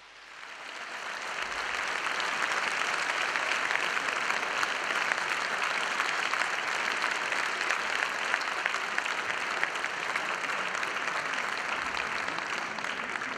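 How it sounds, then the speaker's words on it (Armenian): A concert audience at a 2018 performance breaks into warm applause, rising quickly into a dense, sustained wash of clapping that holds steady to the end. "ջերմ ծափահարություններ"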